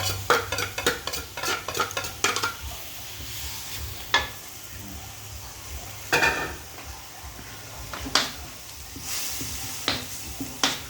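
Garlic, chili and kaffir lime leaves are stir-fried in a pan for dry-style pad kaprao, with brisk clattering strokes of a spatula scraping the pan over a soft sizzle, busy at first and then coming in spaced bursts.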